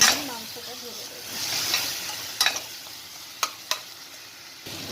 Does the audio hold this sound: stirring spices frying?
yes